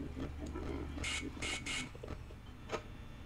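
Harsh mechanical bursts from animatronics in Five Nights at Freddy's, three in quick succession, followed later by a short sharp clatter, all over a low droning background hum.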